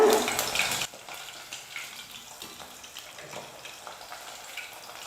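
Small nethili anchovies frying in hot oil sizzle loudly for a moment, then settle into a softer, steady bubbling crackle.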